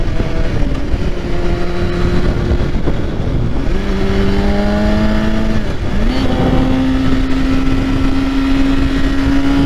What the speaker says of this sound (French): je garde ma poignée accélérée, je mets vraiment un coup d'embrayage à fond